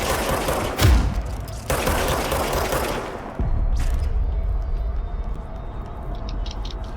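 Gunfire from the video game Control, a burst of rapid automatic shots with a heavy boom, then further volleys and echoing reports, loud and close in the game mix.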